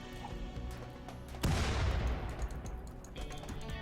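A grenade blast in the RimWorld video game lands as a single loud, sharp burst with a rumbling crash that tails off over a couple of seconds, over a steady low game background.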